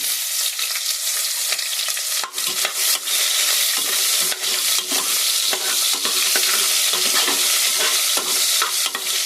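Garlic, onion and ginger sizzle steadily in a hot pan for goat kalderita, with a spatula scraping and stirring through the hiss in repeated close strokes; no one talks.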